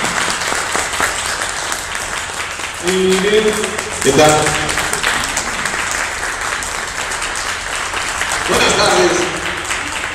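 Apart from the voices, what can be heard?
audience applause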